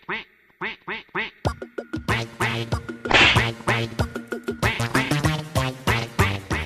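Rhythmic duck quacks sound in a recorded song. A few isolated quacks open it, then the music enters with a bouncy beat and the quacks keep repeating loudly in time.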